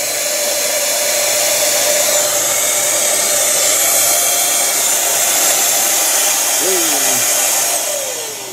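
A WUPYE electric compressed air duster blows a steady, loud, high-pitched rush of air, running continuously with a constant motor whine that dips slightly in pitch near the end.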